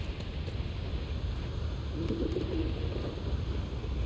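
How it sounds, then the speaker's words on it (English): Birds cooing in The Last of Us Part II, soft repeated coos set against a low ambient rumble, heard alone without voices. "What the hell was that? Birds?"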